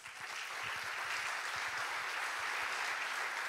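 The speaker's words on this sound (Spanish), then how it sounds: "Yo pido un aplauso para ellos." An audience at a Chilenos Sin Fronteras innovation event applauds its collaborators and sponsors, a moderate, even round of clapping from a room-sized crowd, sustained throughout.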